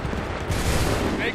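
Musket volley in Assassin's Creed 3, a dense, rumbling crackle of many shots fired together, loud and close, with voices nearby.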